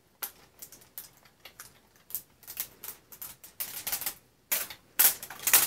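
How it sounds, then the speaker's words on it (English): Protective plastic film being peeled and handled on a new Logitech MK520 wireless keyboard, giving a run of light crinkly clicks and crackles that grow louder and denser toward the end, close by with no talk. "And there's another layer of plastic on top of it."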